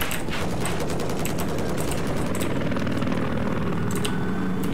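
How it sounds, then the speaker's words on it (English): A helicopter in Battlefield 4 multiplayer, its steady rotor roar blending with a continuous din of gunfire and engine noise, loud and unbroken through the whole stretch. "I know that's a chopper"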